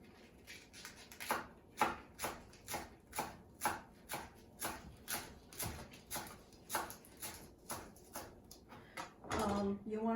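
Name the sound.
knife shredding cabbage into small slices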